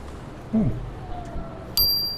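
A bicycle bell rings once, crisp and bright, while riding along Bloor Street in Toronto, heard over road and wind noise, with someone talking briefly just before.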